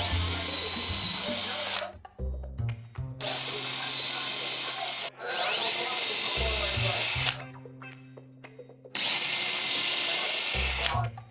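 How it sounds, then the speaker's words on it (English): A power drill pre-drilling holes in wooden pieces for a retro arcade cabinet build, running in three long loud whirring bursts separated by short pauses with clicks and handling noise. "I pre-drill each of these so I can countersink the outer faces"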